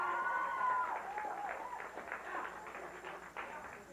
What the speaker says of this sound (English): a big round of applause for Marlene